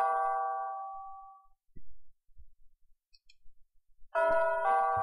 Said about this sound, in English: Let's use the bell pull and see if that works.